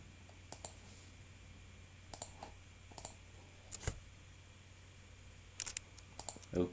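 Sparse clusters of clicks from typing on a computer keyboard, quiet and close, with short bursts of keystrokes separated by pauses and no talking.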